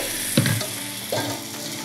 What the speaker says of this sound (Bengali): এবার আমি 1 হাতা ব্যাটার চাটুর মধ্যে দিয়ে দিচ্ছি।